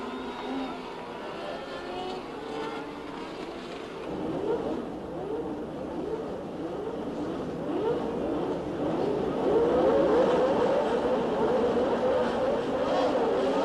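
Formula 1 cars from 1981 race on a wet track, a blur of engine noise swelling and rising in pitch as revs climb, fairly distant and continuous under crowd-like background wash.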